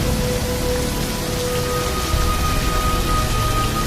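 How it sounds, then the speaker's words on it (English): Steady, dense rain falls and patters on surfaces, a continuous even hiss with no voices and no distinct thunder. "Come on out of the rain now."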